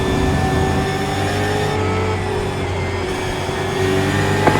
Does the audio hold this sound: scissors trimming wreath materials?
no